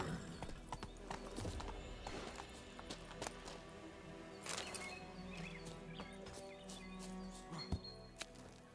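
Geralt's horse Roach gallops in The Witcher 3, steady rapid hoofbeats with creaking tack and occasional snorts over the game's outdoor ambience, close and continuous.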